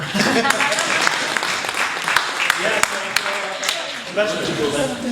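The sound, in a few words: audience applause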